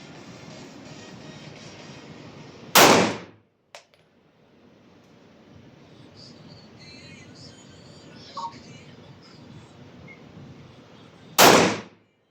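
Pistol shots at the Taksim Shooting Club range in Istanbul: two loud, sharp cracks about nine seconds apart, with a faint click between them and low range hum underneath, no talking.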